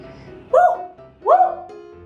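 A person imitates a dog barking indoors, giving two loud, close woofing barks about 0.75 seconds apart with quiet room sound between them.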